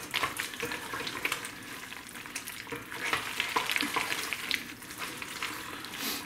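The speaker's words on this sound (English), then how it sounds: "All I just gotta do is mix this mac and cheese." Mac and cheese is mixed in a pan, making a continuous wet, sticky churning and scraping, close and moderately quiet, with no voices.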